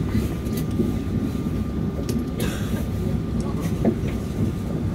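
A steady low rumble of a moving train carriage heading into Paris from the airport, with rattling and faint clicks of the rails, heard from inside throughout.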